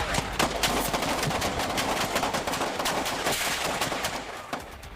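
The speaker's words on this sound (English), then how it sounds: "gunfire erupts at the same spot where protesters spent the entire day rallying against the planned arrival of federal agents" Gunfire rings out at a protest site: a dense, rapid series of loud shots, some in bursts like automatic fire, continuing for several seconds before tapering slightly.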